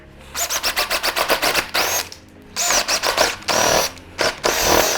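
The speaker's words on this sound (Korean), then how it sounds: "지금 이제 타공 작업 할 건데 이거는 그린 거에다 포인트를 찍고 작업할 거예요" A power drill bores holes in an ABS door during installation: a quick series of short whirring bursts, then several longer, louder drilling runs separated by brief pauses.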